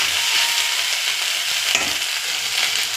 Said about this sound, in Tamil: இப்போ எல்லாத்தையும் நல்லா வெங்காயம் கீரை எல்லாத்தையும் நல்லா ஒன்று செய்கிற மாதிரி நல்லா கலந்துக்கலாம்